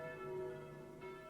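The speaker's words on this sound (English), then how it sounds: "The bells of the Palazzo Vecchio rang." Bells of the Palazzo Vecchio in Florence ring faintly in a brief, sustained toll with a long humming resonance, heard at a distance and alone.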